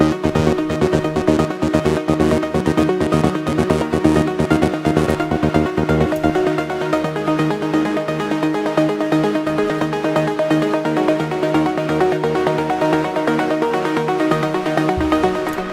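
Moog Sub 37 synth melody playing in a techno/trance track, a dense, steady electronic mix with layered harmonic lines and a continuous beat running loud throughout.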